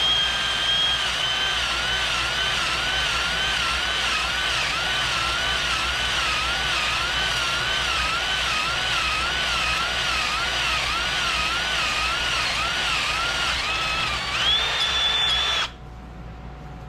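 A power drill boring through metal with a fresh bit while making a custom alternator mount, a steady loud whine with a wavering pitch that runs unbroken for about fifteen seconds and then cuts off abruptly.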